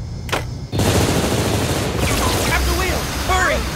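Rapid gunfire in a Cowboy Bebop anime episode, a sharp burst near the start followed by a dense, loud barrage of shots and impacts, with voices chattering through the noise.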